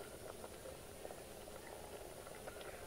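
A pot of thick banana stem gasi curry bubbles steadily at a soft, even simmer, the gentle boiling close and quiet with no talk over it.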